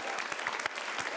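Quiet, distant applause from an improv comedy show audience, a brief patter of many hands clapping at a steady density for about a second.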